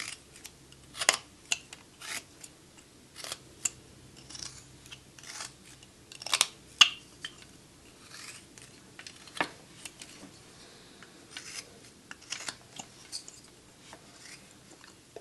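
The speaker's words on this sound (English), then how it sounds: "I'm going to make a V cut at this hat line, like so" A whittling knife cuts a V notch into a small wood block for a carved sailor figure, producing quiet, scattered crisp clicks and shaves close by with pauses between strokes.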